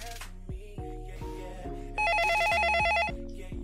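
A telephone ringback tone sounds on an outgoing call: a repeating electronic ring pattern, clear and fairly loud, with no talk over it.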